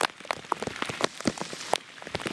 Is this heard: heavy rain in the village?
yes